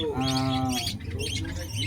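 Pigeons coo in a pigeon shop in Khulna's Boro Bazar market, giving a low throaty call up close while other birds chirp softly in the background.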